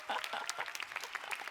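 Audience applause for Agathe at the opening speech of the 2025 Paille congress, a brief burst of many hands clapping, quiet and somewhat distant.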